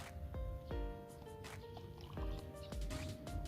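Water splashes and gurgles as it is poured into a container during a kindergarten science lesson, with short bursts of liquid sound over faint background tones and a bit of quiet voice.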